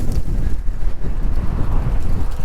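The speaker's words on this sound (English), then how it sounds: "As you can hear, I'm cycling into a horrible headwind." Strong headwind buffets the microphone of a cyclist on a mountain pass, a constant low, roaring rumble gusting unevenly throughout.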